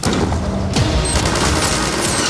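Dense gunfire and explosions in Garry's Mod, a loud continuous barrage of shots and booms filling the whole stretch with no pause.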